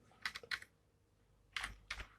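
Bursts of keyboard typing, two quick clusters of clacking keystrokes near the start and two more after a short pause, close and clear with no talking.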